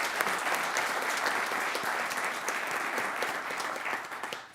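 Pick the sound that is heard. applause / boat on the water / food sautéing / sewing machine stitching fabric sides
applause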